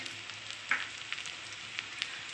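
Chillies, salt, turmeric, coriander powder and ginger-cumin paste fry quietly in a pan with a soft sizzle. A few light clicks from stirring come through, and no one talks.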